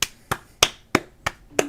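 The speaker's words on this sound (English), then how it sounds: "The stream can definitely hear you clapping." Hand clapping heard over a live game stream: six sharp, close claps in an even, steady rhythm, each a crisp snap with nothing else around them.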